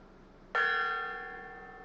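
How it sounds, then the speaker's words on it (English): A single strike on a gong rings out sharply, then its bright metallic tone sustains and slowly fades, heard alone against a quiet workshop background. "Banging that gong. Doing it right. Hitting it up."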